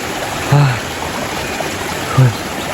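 A steady rushing of falling water fills the clip, broad and constant, with two brief low thumps standing out above it.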